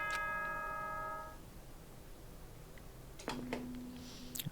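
Monokuma's announcement chime in the video game Danganronpa: Trigger Happy Havoc, a brief ringing bell tone that fades out within about a second, followed by quiet background and faint later sounds.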